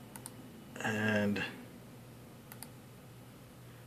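Someone typing on a computer keyboard, a brief burst of quick clicks near the middle, with a voice speaking over it and a few faint taps afterward.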